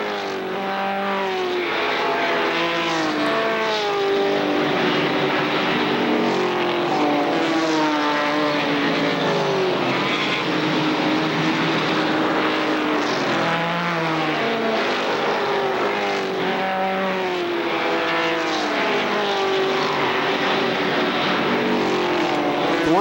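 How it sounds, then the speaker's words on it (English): ARCA SuperCar race car engines roar past a turn-two vantage at Kil Kare Speedway, loud, continuous and layered, with several cars rising and falling in pitch as they sweep by, no voices. "you can hear the cars, the engines roaring around past the camera position"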